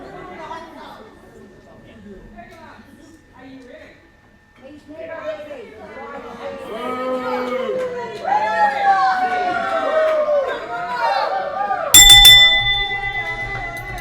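A wrestling ring bell at a Hughes Academy Wrestling event rings once near the end, a sharp ringing clang with a lingering tone, after crowd noise and voices.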